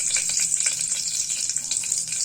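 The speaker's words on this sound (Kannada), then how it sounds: "ಇವಾಗ ಒಗ್ಗರಣೆ ಹಾಕ್ತೇನೆ ರೀ ಸಾಂಬಾರಿಗೆ." Mustard seeds, curry leaves and crushed garlic sizzle steadily in hot oil for a sambar tempering, a close, bright continuous hiss with small crackles and pops.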